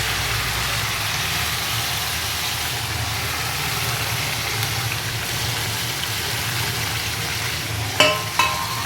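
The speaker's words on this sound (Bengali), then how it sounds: "প্রথমে তেলের মধ্যে আমি চিকেনগুলো দিয়ে এবার ভালো করে কষাতে হবে চিকেনটা" Chicken pieces frying in oil for biryani, a steady, even sizzle with a low background hum that holds for several seconds before a couple of brief utensil clinks near the end, with no talking.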